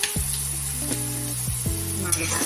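Sliced onion and cumin seeds fry in a pan with a continuous, moderate sizzle and occasional stirring. A faint tonal bed of music runs underneath throughout.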